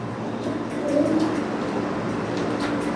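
Pigeons at a house where they are kept and flown, low soft coos rising briefly near the middle over steady ambient noise, close but quiet.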